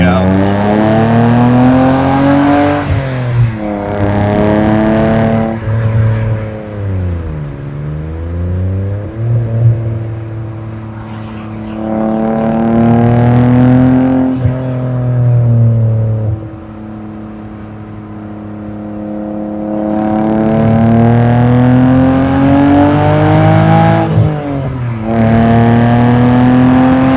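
Roadster engine accelerating through the gears, rising revs then dropping at each shift, repeated several times in a loud, close in-car sound with a steady drive hum beneath, and voices speaking over it at points.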